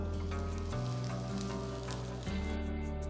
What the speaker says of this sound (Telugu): ఇప్పుడు నేను దీంట్లో కొంచెం ఇంగువ వేస్తున్నాను.